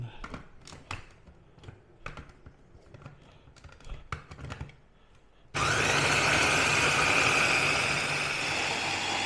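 Bumbu spice paste being ground in an electric grinder: scattered clicks and knocks of loading come first, then the motor starts abruptly and runs as a loud, steady whirring grind.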